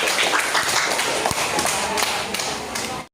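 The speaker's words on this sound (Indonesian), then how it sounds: "Tepuk tangan untuk kelompok 2." A classroom of students claps together for group 2, a dense, steady burst of many hands close by that runs about three seconds and then stops abruptly.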